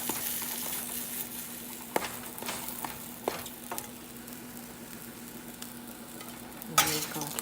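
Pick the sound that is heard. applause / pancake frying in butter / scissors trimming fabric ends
pancake frying in butter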